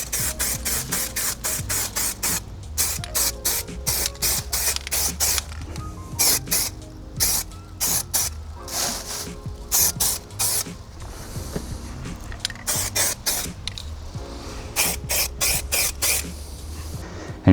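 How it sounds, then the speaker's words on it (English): Repeated short bursts of primer spray hissing from a can onto brake calipers, in quick rhythmic pulses with brief gaps, close and steady throughout with no talking. "So I'm going to spray a light coat on to start with"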